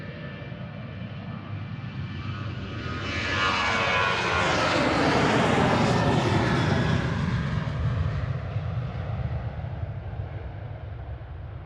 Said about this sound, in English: This is Ryanair to Lisbon, EIEKS, a 737-800 that's 14 years old